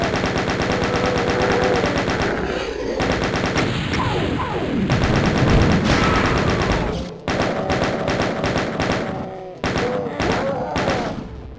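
Gunfire in a custom Doom WAD level: dense, continuous rapid shots with thuds and impacts, loud and close throughout, with a brief dip near the middle before the firing resumes.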